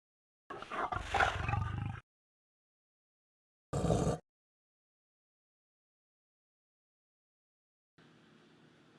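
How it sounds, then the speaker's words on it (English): Lion and tiger roars cut for dinosaur sound design: one long, loud, rumbling roar, then a short isolated roar after a gap, and finally a quieter, low growling rumble, with silence between them. "I used long clips of a lion and a tiger and cut out the sounds as I needed them"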